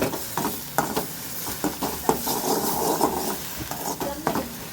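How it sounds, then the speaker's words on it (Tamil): Goat brain fries with salt and chili powder in a pan, a close hiss under busy scraping and tapping of a spatula stirring it in quick, irregular strokes. "உப்பு மிளகாத்தூள் போட்டு அப்படியே லைட்டாக நம்ம முட்டை வறுப்போம் இல்லையா, அந்த மாதிரி வறுக்க வேண்டியது தான்"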